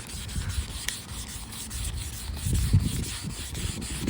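Sandpaper rubbed by hand back and forth over a hazy car headlight lens, a steady close scratching rasp with slightly stronger strokes toward the end, no talk.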